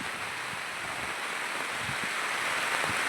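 Steady rain falls on a farm where tomatoes are being staked during the rice-planting season, a dense, even hiss with scattered low patters of drops, continuous and fairly close throughout.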